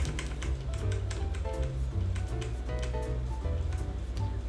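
Arrow keys on a computer keyboard are pressed repeatedly, a quick run of light clicks over a steady low background.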